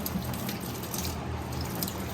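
Liquid gushes steadily from a leaking intake on a Pontiac GTO, a continuous rushing, water-like flow heard up close with no breaks and no talking.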